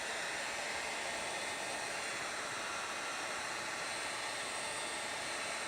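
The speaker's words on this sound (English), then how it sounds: "we bring out the heat gun and we finish warming it" A heat gun blows a steady, even hiss of hot air while warming a plastic piece, loud and unbroken throughout with no other sounds.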